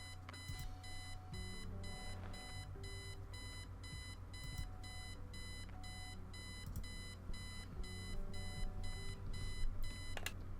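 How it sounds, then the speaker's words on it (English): An alarm clock in the video game Kathy Rain beeps in rapid, regular bursts throughout, a loud insistent electronic pattern over a low background hum, with no talking. "I set the alarm so you won't miss the funeral"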